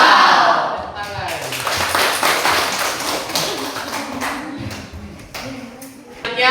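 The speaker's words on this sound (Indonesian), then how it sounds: "Tepuk tangan." A classroom of students claps their hands together for a presenting group, a loud burst of many overlapping claps that stays fairly steady and then tapers off near the end.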